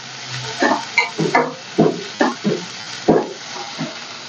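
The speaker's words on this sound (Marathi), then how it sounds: "छान ही भाजी आपण तेलामध्ये परतून घेतली" Radish pods stir-fried in oil, heard up close as a rhythmic series of distinct scraping and tossing strokes, roughly one every half second, over a soft sizzle with no voices.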